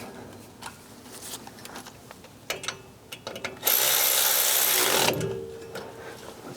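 Ratchet with a 10mm socket tightening rear brake caliper bolts on a 2004-2008 Ford F150, a run of close clicking strokes followed by a louder sustained burst of rapid ratcheting, then quieter clicks.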